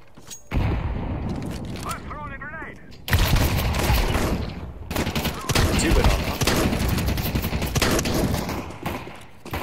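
Rapid gunfire in Counter-Strike 2, loud bursts of automatic shots in several volleys separated by short gaps, with a voice talking briefly between them.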